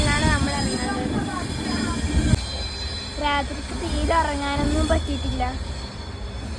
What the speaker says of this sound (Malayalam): നമ്മളെ ട്രെയിനാണ് പോകുന്നത്.